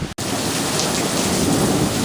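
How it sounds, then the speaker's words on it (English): A sudden summer thunderstorm arrives after a 106-degree day near tall trees, with heavy rain pouring down loudly and steadily and thunder rumbling underneath. "And here comes the rain, right behind it."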